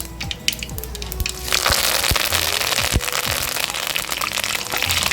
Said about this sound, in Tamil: கடுகு பொரிட்டு எண்ணெய் காய்ச்சி கடுகு பொரிஞ்சிருச்சு